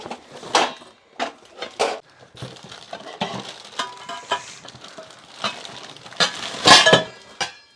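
A new steel frying pan being handled, with scattered metallic clinks, knocks and scrapes coming in short irregular bursts, close and moderately loud, with no talking.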